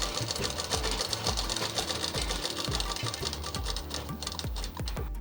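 Sewing machine running a half-inch seam around the curved sleeve join of an umbrella frock, a steady rapid stitching chatter that continues throughout at close range with no pauses.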